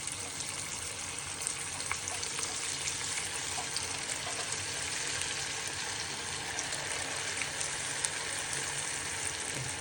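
Manchurian balls deep-frying in hot oil, a steady, dense hiss and crackle that holds evenly throughout with no talking.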